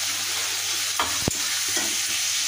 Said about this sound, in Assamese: মছলাকেইটা মাছৰ মছলাকৈ ভাজা হ'ল। এতিয়া ভাজি থোৱা আলুকেইটা দি দিম।